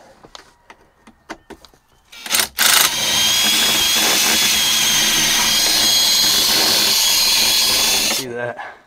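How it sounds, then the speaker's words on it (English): A power nut driver removing nuts on a Freightliner FLC truck while a sleeper boot is fitted, whirring loud and steady for about six seconds after some clinks of tools and brief talk. "I need to get a nut driver for down in there."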